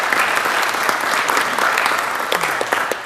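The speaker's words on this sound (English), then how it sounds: "Let's give him a round of applause." Applause at a city council meeting in Lawton, a dense burst of clapping from a roomful of people, loud and close, sustained for a few seconds and tapering off at the end.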